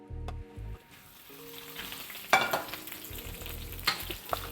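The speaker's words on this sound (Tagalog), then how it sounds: "Tapos itong bell peppers naman ang prituhin natin." Bell peppers frying in a pan during home cooking of a pork rib caldereta, a steady soft sizzle running throughout, broken by a few louder clanks and low thumps of a utensil stirring against the pan, close and with no talking.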